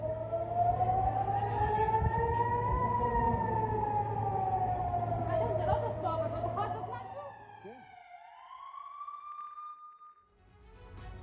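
Air raid sirens wail across Tel Aviv during a Hamas rocket attack, a loud, sustained tone slowly rising and falling over a low hum, then breaking off as a second siren rises and holds before fading.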